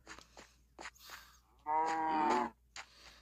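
A brown Guernsey cow in Minecraft lets out one loud, drawn-out moo about a second long, standing alone between a few fainter, shorter rustles and game sounds.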